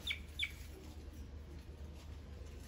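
A small songbird calling outdoors gives two quick, high chirps in the first half second. The chirps sound faint and distant over a steady low background rumble, and the rest is quiet.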